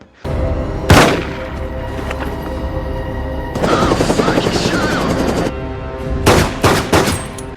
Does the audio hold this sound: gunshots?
yes